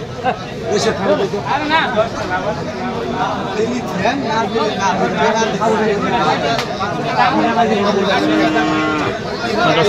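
Cattle at a busy cattle market, several cows mooing close and farther off over a constant babble of crowd chatter and people talking throughout.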